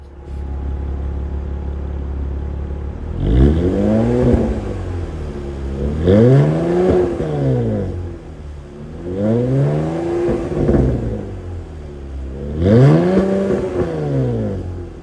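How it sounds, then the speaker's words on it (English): A throaty quad-tip exhaust on a 2024 Chevrolet Camaro 2LT V6 revs up and settles back four times in a steady rhythm, loud and close, over a low idling rumble. "since we got a quad tip exhaust, even though this is a V6 Camaro, let's see how she sounds"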